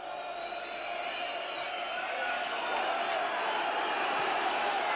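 Football crowd at a 1988/89 Millwall v Everton match, a steady loud roar of many voices with whistling and jeering urging the referee to end the game, sustained throughout and building slightly.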